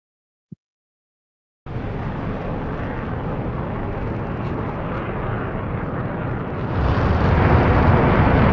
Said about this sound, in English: Just hearing the the jet just right over my head.